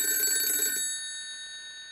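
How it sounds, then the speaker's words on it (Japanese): An old-fashioned black rotary telephone rings: a loud, shrill metallic bell burst lasting under a second, then a lingering ringing tone fading in a quiet room. "けたたましく昔ながらの黒電話が鳴り響きました。"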